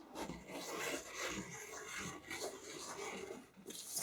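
Scissors trimming a fabric strip for an elastic swimwear strap, a steady close raspy rubbing and snipping texture running continuously for a few seconds, quiet and without talk.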